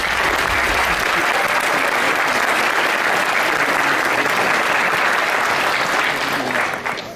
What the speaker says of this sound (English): to be given a round of applause